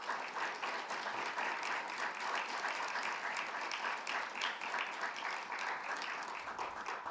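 Warm, steady applause from a lecture audience welcoming speaker Emily Wilson, a dense even wash of clapping that holds at the same level throughout.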